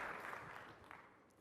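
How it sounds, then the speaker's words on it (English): A warm round of applause from the audience at a virtual business keynote, a steady patter of clapping that fades gradually over a second and a half. "A warm round of applause for Jim."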